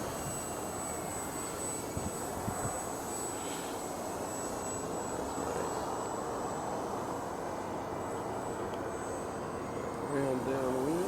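An E-flite Timber radio-controlled airplane fitted with floats flies under power, its electric motor giving a faint, steady buzzing drone against outdoor air noise, with a rising whine near the end.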